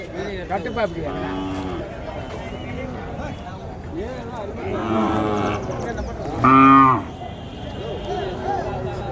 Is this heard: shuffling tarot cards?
no